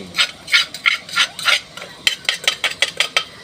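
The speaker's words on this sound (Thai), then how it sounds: "ใส่น้ำมันเสร็จ เราก็มาใส่ กระเทียมพริกเราลงไปเลยครับนี่" Garlic and chili are stir-fried in oil in a pan for a Thai basil beef-meatball dish: a steady run of close, rhythmic scraping and clattering strokes, about a dozen in quick succession, with no talking.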